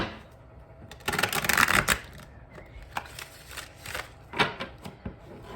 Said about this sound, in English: I'm going to do one more quick shuffle here, and then I'm going to side shuffle real quick